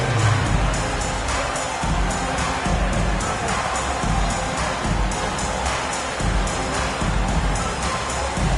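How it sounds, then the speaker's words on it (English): A large crowd in the NBA 2K basketball video game roars and cheers continuously, a dense, steady wall of noise with a rhythmic clapping pulse running underneath. "Please give a big round of applause to your next team."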